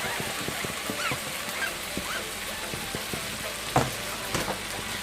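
Okra, scotch bonnet pepper and softened vegetables sizzle gently in a pot while being stirred, with a steady frying hiss broken by scattered light clicks and scrapes.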